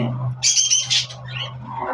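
Pet budgerigars with newly hatched chicks give a few short, bright chirps and squawks close by, over a low, steady hum.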